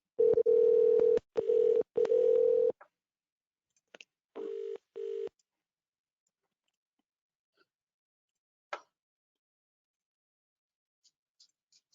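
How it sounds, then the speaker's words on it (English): A telephone line gives steady tones in several short bursts, followed by a few faint clicks and beeps in near silence, as if numbers are being dialed. "Let me dial."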